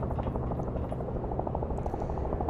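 A steady, loud engine drone of an aircraft taking off in the VR battle royale game Virtual Battlegrounds, rumbling continuously with a rhythmic rotor-like pulse and no talk over it.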